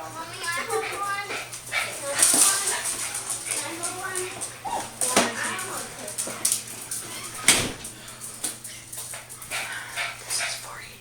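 Household dogs whimper, yip and bark in short bursts by a door, mixed with people talking and a voice, plus a steady low hum running throughout.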